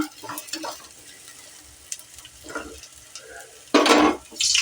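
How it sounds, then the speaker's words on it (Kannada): A chana dal and vegetable palya stir-fry hits very hot oil in a home kitchen, giving short bursts of crackling sizzle with stirring in between and one loud surge near the end. "ಈಗ ಪಲ್ಯ ಮಾಡಾಕತ್ತೀವಿ ನೋಡ್ರಿ ಓ ಎಣ್ಣೆ ಭಾಳ ಬಿಸಿ ಆಗಿತ್ತು ರೀ"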